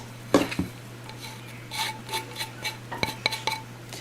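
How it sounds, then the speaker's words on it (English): Dry ingredients for a gluten-free vanilla cake go into a bowl in a home kitchen, bringing a series of light clinks, taps and scrapes of utensils against the bowl, some spaced and some in quick clusters. "And now into this bowl, I'm going to add in all the dry ingredients."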